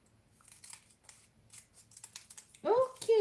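Scissors snip through paper while making handmade Christmas cards, a few close cuts mixed with soft paper handling and quiet talk, ending in louder bursts.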